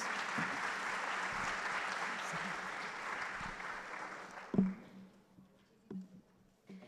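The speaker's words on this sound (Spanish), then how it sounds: "Les agradezco un aplauso para los expositores" Audience applause for the panel speakers at a trade conference session, steady and fairly distant for about four and a half seconds, then thinning into a few scattered claps and thumps before fading out.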